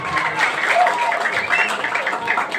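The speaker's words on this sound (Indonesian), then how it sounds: "Tepuk tangan dong untuk koriban" A crowd at a comedy performance in Klungkung applauds with dense, steady clapping that holds at an even level for a few seconds.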